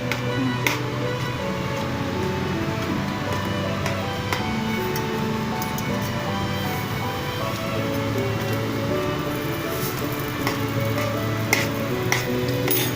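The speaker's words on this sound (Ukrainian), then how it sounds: "це все гарно перемішуємо" A spoon stirs a cake mixture of vanilla sugar and melted butter, giving a continuous soft scraping and swishing with light clicks against the bowl, close and steady with no talking.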